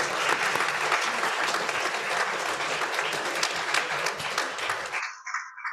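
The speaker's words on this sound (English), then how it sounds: "Let's give them a round of applause." A Unitarian Universalist congregation at a Sunday worship service applauds steadily for several seconds, a dense wash of many hands clapping that stops abruptly near the end.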